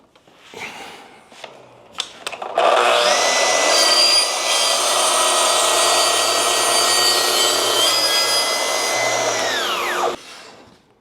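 A table saw rips a narrow wood strip: a whirring spin-up, then about seven seconds of loud, steady cutting whine before it cuts off, with faint talk at the start.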